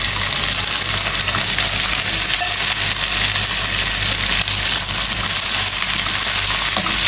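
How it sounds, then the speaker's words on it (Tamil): Onions fry in hot oil for fish biryani, giving a steady, dense sizzle that holds evenly loud and close throughout with no speech. "இந்த வெங்காயம் வந்து நல்லா வந்து ஃப்ரை ஆகணும்"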